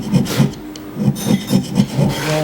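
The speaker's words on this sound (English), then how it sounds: "I'm scraping one side flat here, and then I'm going to scrape the other side flat and parallel" A hand scraper works a metal surface flat in a scraping class, with rhythmic, close, rasping strokes repeating about twice per second, each a short gritty scrape, and no talking.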